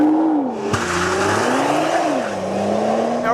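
A 2013 Nissan GT-R Black Edition launching hard on launch control, its engine pitch climbing and dropping through a gear change with a sharp thud at the start and some tire slip, loud and close.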